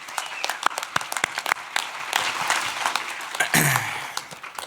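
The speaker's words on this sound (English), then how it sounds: "Give that a round of applause." Scattered claps build into a burst of applause from a crowd at an awards event, with talk and chatter mixed in underneath.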